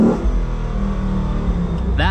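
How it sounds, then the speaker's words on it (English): A Gateway Bronco Lux GT, a restomod Ford Bronco, rumbles with a loud, deep, continuous engine note as it is revved, heard from the driver's seat. "Let's give it some revs."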